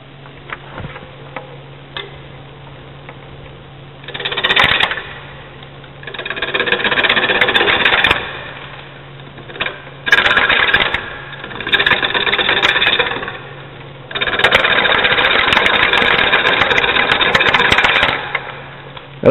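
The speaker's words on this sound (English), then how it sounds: "By simply pushing straight in towards the headstock, the tool will be forced to ride the bevel and create that angle." A bowl gouge with a 40/40 grind makes push cuts into a spinning bowl on a wood lathe, giving loud, sustained scraping and hissing passes in several bursts over a steady motor hum and ticking.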